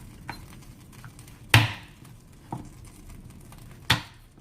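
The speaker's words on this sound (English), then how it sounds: "Crush 2 garlic cloves." Garlic cloves are crushed on a board for a quick Vietnamese beef pho broth, giving a few sharp, close thumps and cracks spaced irregularly with quiet gaps between, and no talking.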